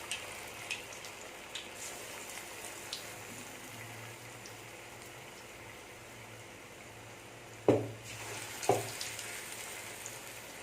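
Urad dal bonda batter balls frying in medium-hot oil, a low steady bubbling hiss throughout, with two sharp louder splutters near the end as more batter drops in; no talk.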